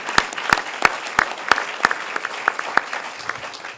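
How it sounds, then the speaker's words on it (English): Sparse applause at a government event where a report on schools is presented, a dozen or so distinct, fairly loud claps spaced roughly evenly and thinning out toward the end. "Let's give her a round of applause."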